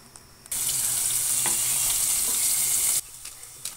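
Garlic sizzles loudly in hot oil in a pan for about two and a half seconds, close and steady, with quieter kitchen noise before and after.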